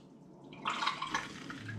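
Pear must pours from a big pan into a fermenter during home perry brewing: a soft, close liquid splash and trickle that begins faintly and then splashes on for about a second, with no talk.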